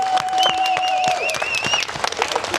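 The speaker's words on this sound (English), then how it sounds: "Can we give them one more loud round of applause?" A crowd at an outdoor protest in Oldham applauds in a brief burst of scattered claps, with whistling or cheering tones and some voices over it.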